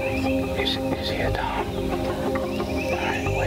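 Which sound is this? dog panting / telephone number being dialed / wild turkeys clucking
wild turkeys clucking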